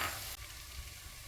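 Garlic with crushed cumin and black pepper hits hot coconut oil in a pan, a sharp loud burst of sizzling that settles at once into a steady, close crackling fry.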